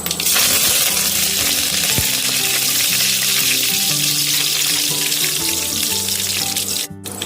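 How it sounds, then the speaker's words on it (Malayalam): Curry leaves hit hot oil already holding crackling mustard seeds and fenugreek for a Kerala-style river fish curry, giving a loud, close, continuous sizzle with scattered pops that cuts off abruptly at the end. "ഇനി നമുക്കിതിലേക്ക് കറിവേപ്പില."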